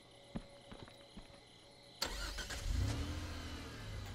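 A car engine in the Friday the 13th video game: a few faint clicks and knocks, then the engine abruptly cranks and catches, settling into a loud rumbling idle with a rising rev.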